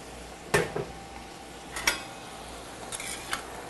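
A spoon stirs tomato sauce in a pot on the stove, giving a few distinct scraping clinks against the metal, spaced apart over a quiet, faintly sizzling background.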